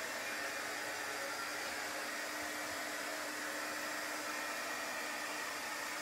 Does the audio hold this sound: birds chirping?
no